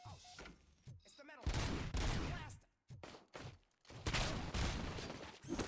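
Bursts of loud automatic gunfire and impacts in the game RoboCop: Rogue City, broken by short pauses, with a voice talking over parts of the action.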